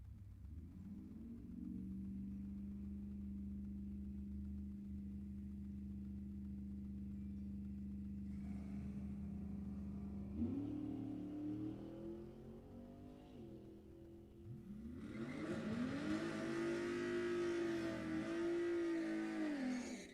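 A 1957 Chevy 210 and a 1967 small-block Camaro drag race at a raceway, first idling steadily, then revving and launching into louder surging acceleration that builds toward the end.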